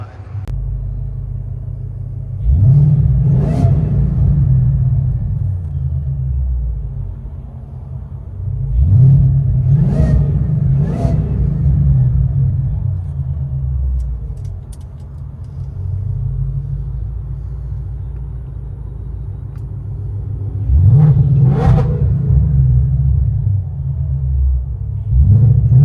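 Inside a supercharged Ford Mustang GT V8, a deep droning exhaust rumble fills the cabin, swelling with four or five throttle blips spaced several seconds apart before settling back to a steady idle.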